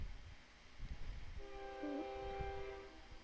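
A train horn sound effect gives one sustained multi-tone blare of about a second and a half, fairly faint and set against a low rumbling background.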